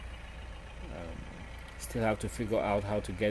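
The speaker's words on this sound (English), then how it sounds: "So sorry about the loud engine idling." A Mahindra Roxor's engine idles in a steady low rumble throughout, while someone talks close over it.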